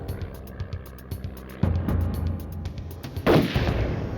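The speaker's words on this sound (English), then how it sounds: "The agents in the car heard shots" Gunshots ring out near a car on an Ohio road, a series of sharp reports over low rumbling, with a louder burst of blasts toward the end.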